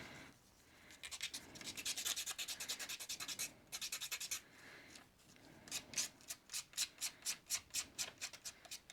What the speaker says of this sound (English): Folding it the other way so I can get this crease